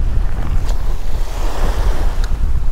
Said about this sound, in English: You guys can probably hear it is windy as heck.